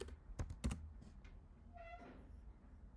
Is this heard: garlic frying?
no